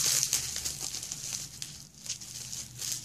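A package of nail polishes being opened, faint crinkling and tearing of plastic wrapping in soft irregular bursts, close up and quiet, with no talking.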